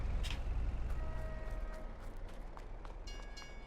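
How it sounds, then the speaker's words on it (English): A freight train arrives in the Farming Simulator 22 video game with a low, continuous rumble and faint metallic squealing tones above it, steady throughout with no talk. "While we wait for the train."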